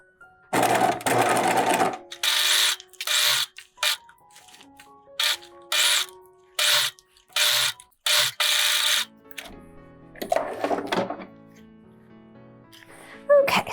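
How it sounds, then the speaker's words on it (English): A sewing machine stitches a bodice seam at a 5/8-inch allowance in repeated short bursts with pauses between, close and clear, opening on a longer run and followed by some quieter handling noise; no one talks over it. "Now we're gonna sew at 5/8 of an inch."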